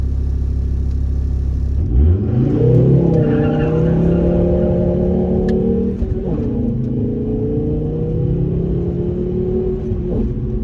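A classic car driven hard on a road, the engine revving up sharply from a low rumble and holding high with tyre noise, then shifting and pulling again, loud and close from inside, without speech.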